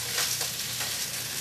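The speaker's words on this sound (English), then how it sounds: "You'll hear it sizzle like that." Greens sizzle and crackle in a hot pan, tossed with tongs, a brief, steady frying hiss up close.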